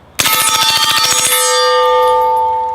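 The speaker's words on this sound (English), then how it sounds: "You realize how loud that steel was." A rapid string of metallic pings as MP5 bullets strike steel, then a long, bright ringing tone that slowly fades.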